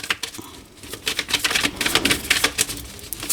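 Tarot cards are cut and drawn from a deck, giving a run of quick, close, dry papery snaps and flicks in irregular bursts, with no talking.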